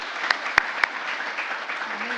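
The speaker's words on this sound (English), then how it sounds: "We want to give you one more round of applause and allow you to be seated again." A graduation audience for an IT leaders certificate program applauds, a dense continuous clapping wash with a few louder individual claps standing out early.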